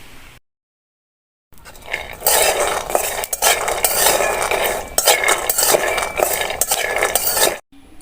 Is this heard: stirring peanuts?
yes